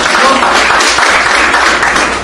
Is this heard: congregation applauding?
yes